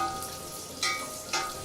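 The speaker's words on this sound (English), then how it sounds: "now these are thinly sliced onion pieces. We are going to add this to the ghee and cook it" Thinly sliced onions frying in hot ghee, a steady close sizzle with two brief louder bursts of crackle as the pieces are stirred.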